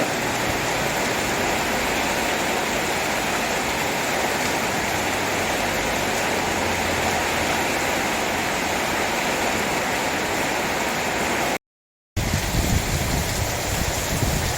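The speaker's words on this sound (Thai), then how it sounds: "ฝนตกหนักมืดมัวจนมองไม่เห็นอะไรเลยครับตอนนี้" Dense, steady roar of heavy rain with wind, a broad wash of noise, briefly cutting out before resuming just as loud.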